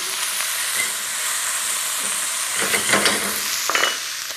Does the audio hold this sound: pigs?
no